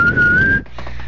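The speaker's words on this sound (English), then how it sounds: "I'm whistling onto my mic." A person whistles a single sustained, slightly rising tone close into a microphone, loud and alone, then breaks off into quieter background noise.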